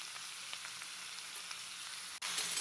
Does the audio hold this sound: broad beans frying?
yes